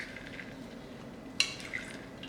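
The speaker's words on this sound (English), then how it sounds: "Now I'm gonna mix it all up." Chicken, slaw, brown rice and corn being mixed together in a bowl, a soft scraping stir with one sharp utensil clink partway through and a lighter tap after, close and fairly quiet.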